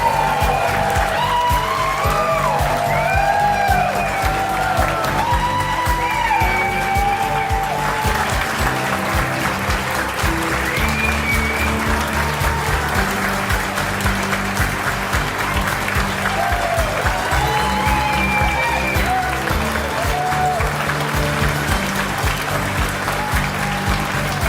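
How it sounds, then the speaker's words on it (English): Sustained applause from a large audience at an awards gala, a dense steady wash of clapping lasting throughout, loud and even, with music playing underneath. "Please join me in a heartfelt applause"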